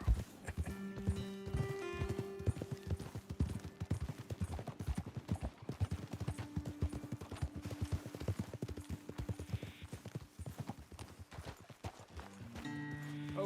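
Horse hooves clip-clop rapidly and steadily in Red Dead Redemption 2 as riders climb toward a vantage point, with dense, evenly spaced hoofbeats over soft musical tones and no talking.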